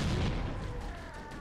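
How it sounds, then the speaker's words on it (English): Gunfire in the video game Halo CE Anniversary: a short burst of heavy, booming shots with a low rumbling tail, fairly close and alone without talk. "I hear gunfire this way."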